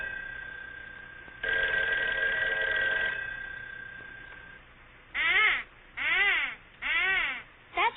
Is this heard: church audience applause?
no